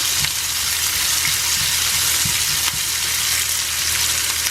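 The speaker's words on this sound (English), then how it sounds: "I'm just going to saute these so that they're nice and soft for the quesadillas." Vegetables seasoned with salt and black pepper sautéing in a pan for quesadillas, a steady loud hiss of frying with occasional stirring knocks, close and continuous with no talk.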